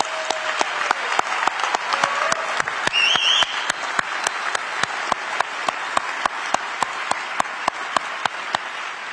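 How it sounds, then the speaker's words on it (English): Audience applause at a police academy graduation and promotional ceremony fills the hall, a dense steady wash of many hands clapping from start to finish, with a brief whistle partway through. "Please join me in giving them another round of applause."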